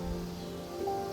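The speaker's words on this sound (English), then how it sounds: "thunderstorm blew through East Tennessee the other day, and I decided to film parts of it" Rain from a passing thunderstorm in East Tennessee, a soft steady patter falling on surfaces outdoors, briefly and without voices.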